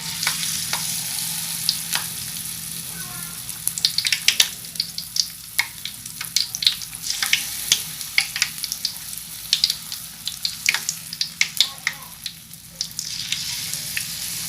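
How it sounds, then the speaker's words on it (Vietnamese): Small lotus flowers deep frying in hot oil for a crispy vegetarian dish, giving a steady loud sizzle and bubbling crackle with frequent sharp pops throughout, close by with no talking. "bây giờ mình chiên những cái bông sen nhỏ này luôn nha các bạn."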